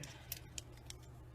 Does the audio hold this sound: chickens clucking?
no